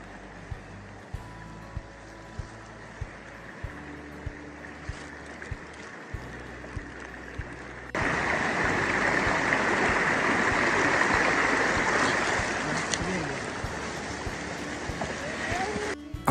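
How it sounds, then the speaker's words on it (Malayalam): A forest waterfall at Kochupampa in Gavi gives a distant, steady rush of falling water. It swells much louder midway, under regular soft clicking and low rumbles. "ആ സൗണ്ട് നമുക്ക് ഇവിടെ കേൾക്കാൻ പറ്റുന്നുണ്ട് വെള്ളച്ചാട്ടത്തിൻ്റെ"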